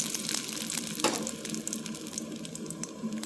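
Mustard seeds and urad dal fry in hot oil in a kadai for tempering, a close, busy sizzle with scattered crackles and pops throughout, no talking.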